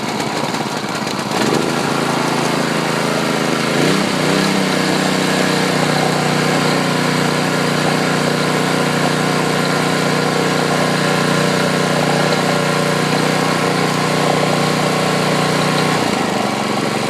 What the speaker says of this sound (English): first pull on a brand new engine